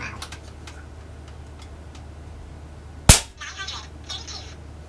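A single sharp, loud crack from an Air Venturi Avenger .25 caliber air rifle, stock and untuned, fired once mid-clip over a low steady background hum, followed by faint clatter.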